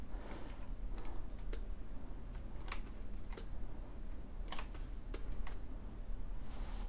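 Keys pressed on a computer keyboard during 3D shark modeling work, with a string of sharp, quiet clicks scattered irregularly over a soft steady background hiss.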